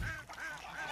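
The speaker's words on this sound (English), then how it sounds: "Here comes the goose." A goose honks in the Warzone video game, a single nasal call that repeats a few times in about a second over steady game background noise.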